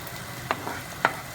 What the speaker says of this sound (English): I can just saute the veggies with the sausage and its own fat.